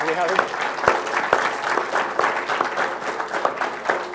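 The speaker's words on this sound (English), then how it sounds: "let's give our volunteers a round of applause." A crowd at a Pro Football Hall of Fame event applauds volunteers, a sustained, dense round of clapping with a few sharp individual claps and loud throughout.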